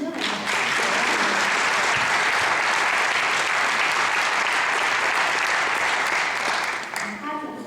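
An audience claps at a regional award ceremony for a teenage rescuer inside a hotel de région hall, sustained, even applause from many hands that thins out near the end.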